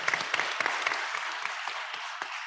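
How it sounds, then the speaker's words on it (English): Audience applause at a cannabis lobby day gathering, fairly faint and steady with a few sharper individual claps, with no voices over it. "They're not clapping for the out-of-state corporations."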